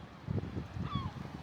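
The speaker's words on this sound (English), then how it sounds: "Just chirping at us from being on their rock." Gulls sitting on a rock on the Portuguese coast give several short, honking calls close by, with a brief rising squeal near the end over light wind.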